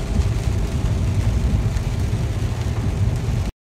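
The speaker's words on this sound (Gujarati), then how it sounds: "મરોલી બી વરસાદ એટલો બધો છે ને કે આગળ શું છે કંઈ ખબર નહીં પડતી" Heavy rain pounds a car while it drives near Maroli, a dense continuous roar of downpour and road noise heard from inside the vehicle, steady and loud before a brief cutoff.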